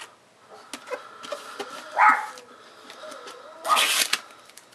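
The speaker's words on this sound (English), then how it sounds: "Don't mind my dogs." Indoors, small dogs let out a few short, sharp barks and yips amid quiet rustling and handling sounds, moderately close and intermittent.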